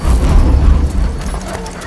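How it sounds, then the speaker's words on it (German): Loud, close clip-clop of horse hooves in the video game Assassin's Creed 3, a dense rapid rumble of hoofbeats with a low thumping undertone over the short stretch. "Aber wir müssen zu dem Pferd da."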